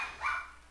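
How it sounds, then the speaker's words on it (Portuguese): A single dog bark rings out close and fairly loud outdoors, short and sharp, with no talk over it. "Vou fazer de conta que nem tem cachorro latindo"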